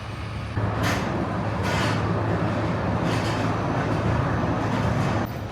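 A small park train at Okefenokee Swamp Park rolls into its train barn with a steady low rumble and rattle heard from on board. The level rises shortly after the start and holds evenly until it drops near the end.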